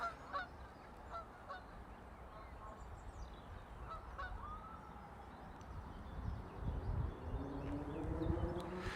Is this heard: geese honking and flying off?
yes